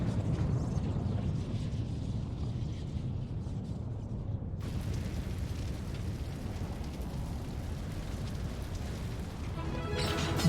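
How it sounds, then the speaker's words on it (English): A video game explosion from Final Fantasy XIV, heard as a dense, sustained rumbling roar that fills the whole clip at a steady loudness and brightens partway through, with no speech. "Explosion."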